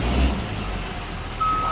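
A yard jockey truck backs up at a loading dock, its engine rumbling steadily under a loud, clear reversing beep that sounds near the end.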